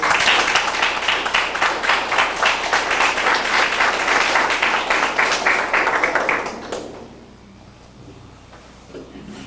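A seated audience gives a loud, sustained round of applause for three guests, a thick, even roar of clapping that suddenly dies away, leaving quiet room tone with a faint stir at the end.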